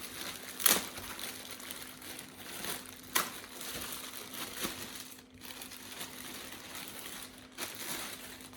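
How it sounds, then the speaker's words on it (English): Product packaging is removed and crumpled from a Filson Alcan tool roll, with scattered crinkling and crushing sounds, a couple of sharper rustles, at close range and fairly quiet. "always has nice little packaging. So we'll just get rid of that."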